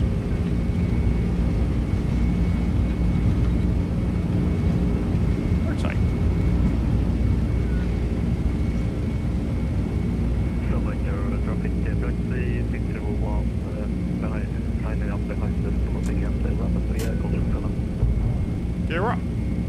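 Steady, loud jet engine roar from an MD-11 at takeoff thrust in a flight simulator, a continuous broadband drone with low rumble that holds throughout while someone talks intermittently over it.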